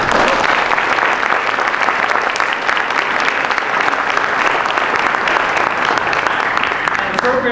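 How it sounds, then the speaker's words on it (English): Steady, dense applause from an outdoor audience at a Shakespeare-in-the-park performance, a continuous close wash of many clapping hands holding at an even level for the whole stretch. "I'd like for you to give a round of applause for our parks guys who are in the back"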